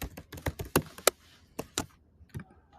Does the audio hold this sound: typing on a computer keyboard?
yes